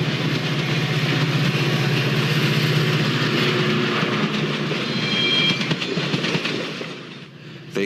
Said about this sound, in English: Metra's other locomotives are the smaller F40PH model